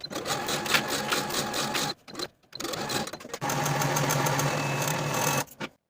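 A sewing machine stitches a blouse seam at 3/8 inch allowance in rapid rhythmic bursts, pausing briefly, then runs in a steadier, faster stretch before stopping. The sound is close and clear with no voices.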